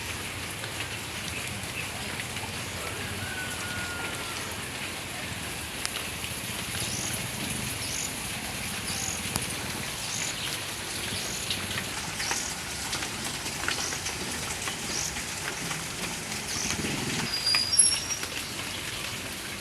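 A sudden summer downpour falls on potted garden plants as a steady, even patter of rain. The close hiss continues throughout with no talk, and a faint bird call comes through now and then.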